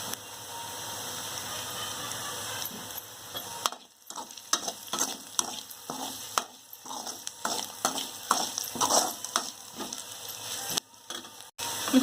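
Chopped onions and green chillies fry in a pan for idli upma under a continuous sizzle. Rhythmic scraping stirs repeat through the middle, and there are a couple of brief pauses.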